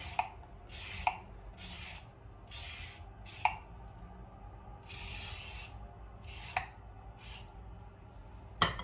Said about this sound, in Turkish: İki tane havuç soyuyorum.